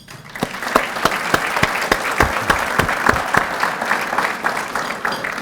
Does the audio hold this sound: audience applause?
yes